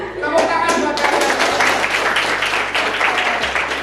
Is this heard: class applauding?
yes